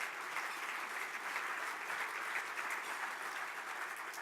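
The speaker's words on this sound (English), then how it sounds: "Let's give them a round of applause again." A crowd at a State of the Cities event claps for community leaders, a steady, fairly faint round of applause throughout with no talk over it.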